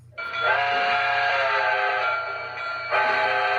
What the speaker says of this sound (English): This is Lionel legacy. Blow the whistle, sound the bell, and do some cab chatter.